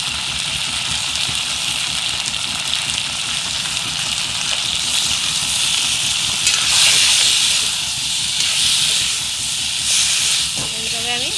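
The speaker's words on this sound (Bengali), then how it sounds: "এইভাবে আমি ভালো করে আবারও মশলাটা কষিয়ে নেব 5 মিনিট।" Masala of chili, salt and onion paste frying in a pan, giving a steady, loud sizzling hiss throughout with slight swells, no talking over it.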